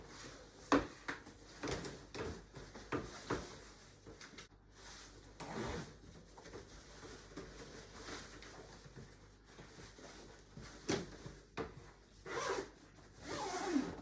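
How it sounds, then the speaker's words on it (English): A fabric zipper around a Nuna Demi Next stroller seat cover is drawn in a series of short raspy pulls with brief pauses and rustling in between, close by, no talking. "Zipping it all the way around."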